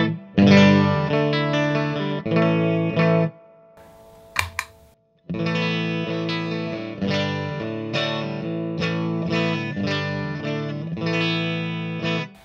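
A distorted electric guitar plays sustained chords straight into an amp with all Boss pedals bypassed, with a short pause and a sharp tap midway before the chords resume.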